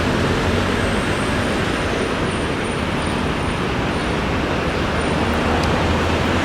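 Dense city traffic roars steadily on a Buenos Aires street, with diesel buses and cars rumbling past close by as a constant loud wash of engine and road noise, with no voices.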